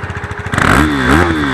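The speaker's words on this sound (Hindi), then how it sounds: "that's how KTM roar" A KTM Duke 390 motorcycle engine close by, with a lumpy, pulsing idle that swells into a loud, rising rev and holds a strong, throaty roar.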